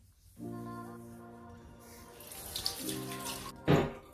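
Water running from a bathroom tap while face cleanser is rinsed off, a steady close stream with hands splashing through it and a brief louder splash near the end, no voices.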